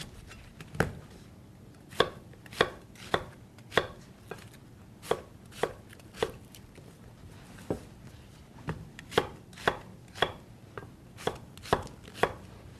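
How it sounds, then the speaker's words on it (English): A knife chops an onion into even 1-inch slices on a board, about twenty crisp, sharp knocks at an uneven steady pace, close and clear with no talk. "Now, chop the onion into even 1-inch slices."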